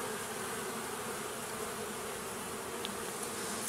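Honeybees fly around a hive in a continuous, even buzzing drone that stays steady throughout, with no voices.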